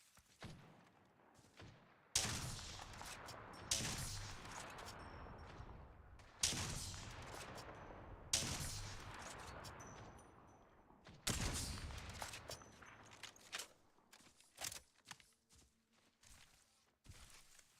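Video game gunshots ring out in several loud bursts, each sharp onset decaying into a rumbling tail, with quieter footsteps and thuds between volleys and near the end.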